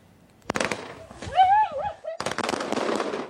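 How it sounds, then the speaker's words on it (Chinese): Fireworks crackle and pop in rapid bursts, with a whistling rise in between, outdoors at night at Wuling in a forest reserve, fairly close, with voices mixed in. "烟火搁一直放"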